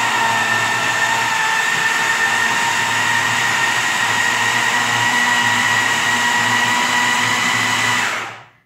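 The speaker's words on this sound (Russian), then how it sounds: "Здесь мы взбиваем в однородную массу." A kitchen blender whips banana into a smooth purée, running with a steady, loud, even whir for several seconds before winding down and stopping.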